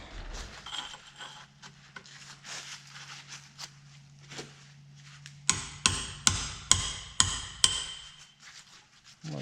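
Metal punch and pry bar hammered on a worn 7.3 diesel turbo, with faint scraping and tapping early, then a run of six or seven loud, evenly spaced sharp metallic hammer strikes up close.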